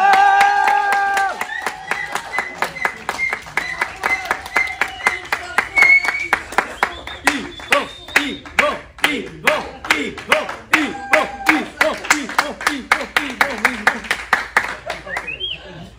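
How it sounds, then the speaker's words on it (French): Clapping in a CrossFit gym session to congratulate a member on a diploma: a sharp, rhythmic series of close hand claps from a small group, mixed with speech early on that fades as the claps continue. "On peut l'applaudir."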